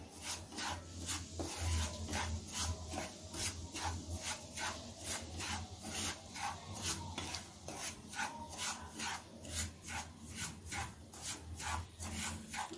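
Semolina being stirred and roasted dry in a pan for sheera, a steady rhythmic scraping and rasping, about two strokes per second, close and moderately quiet with no talk.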